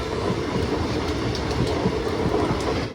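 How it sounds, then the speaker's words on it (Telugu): A train pulled by a P4 locomotive rolls into platform 3 at Bhimavaram station, a dense continuous rumble of wheels and carriages, loud and close throughout. "భీమవరంలో అయితే మనకి ప్లాట్ఫామ్ 3కి అయితే వచ్చింది ట్రైన్."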